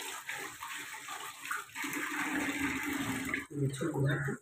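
Water runs steadily from a kitchen tap as food is washed during meal prep, a continuous rushing splash that briefly dips around the middle before pouring on.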